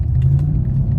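Mercedes-AMG car with a 9-speed transmission driving, a loud, steady low rumble of engine and road noise heard from close by.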